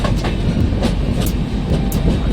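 A passenger train on the Bhubaneswar–Delhi route, running hours late, rolls steadily along the rails with a loud, continuous rumble and repeated clickety-clack beats from the wheels, heard close from on board with no talk.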